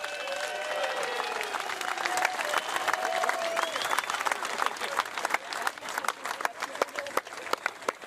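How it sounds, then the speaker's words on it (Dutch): A crowd at a skûtsje sailing event in Sneek gives the Snits skûtsje crew a big round of applause, many hands clapping with some cheering and a few voices mixed in. "Maar ik wil graag een groot applaus voor het scootje van Snits"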